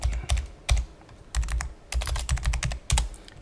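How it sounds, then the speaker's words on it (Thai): Typing on a computer keyboard, a run of quick, close, clicky keystrokes in irregular clusters with short pauses, no talk. "อันนี้ก็จะพิมพ์คำว่าออก"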